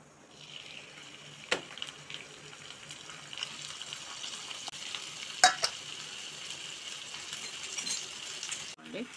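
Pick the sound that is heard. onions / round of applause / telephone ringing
onions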